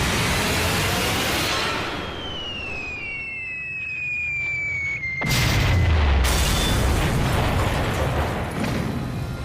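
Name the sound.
bombs exploding on a rail yard, WWII bombing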